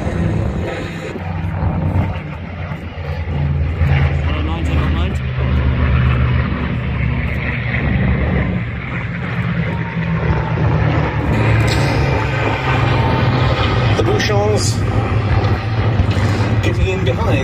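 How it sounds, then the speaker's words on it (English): A P-47 and two P-51D Mustang fighters, one a two-seat TF-51D, fly past at a Battle of Britain air show at Duxford, a loud sustained engine roar with a broad rumble, steady throughout over crowd ambience. "here they come indeed, P-47 and two Mustangs."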